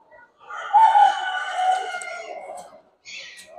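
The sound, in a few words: rooster crowing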